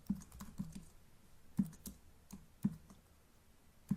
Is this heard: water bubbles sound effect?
no